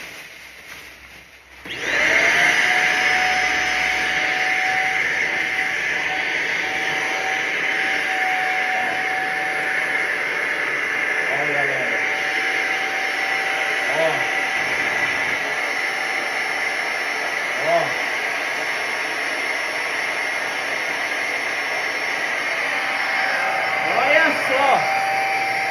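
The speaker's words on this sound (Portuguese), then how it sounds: "Aspirador de pó." Household vacuum cleaner switching on and running steadily with a loud whining hum, with a few faint knocks and handling sounds over it; a voice speaks briefly near the start.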